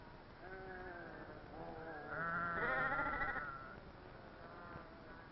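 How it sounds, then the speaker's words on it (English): Several sheep in Santiago Tlacotepec, Toluca, State of Mexico bleat in wavering calls, one after another, with a louder, fuller chorus in the middle; the farmyard is otherwise quiet. "ome of my neighbors, like my friend Alfredo, have flocks of sheep."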